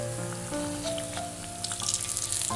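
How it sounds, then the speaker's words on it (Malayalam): Bread slices frying in hot oil in a home kitchen, a steady soft sizzle and bubbling with faint clinks and scraping as pieces are moved, no talking. "ഇതിപ്പോൾ എണ്ണയിൽ കിടന്ന് നന്നായിട്ടൊന്ന് മുരിഞ്ഞിട്ടുണ്ട്."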